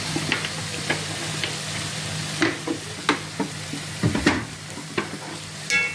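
Mushrooms frying in a pan with lemon juice, a steady soft sizzle with several clinking, scraping stirring strokes of a utensil, close and moderate in level, without speech.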